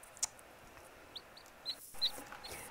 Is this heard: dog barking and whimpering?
no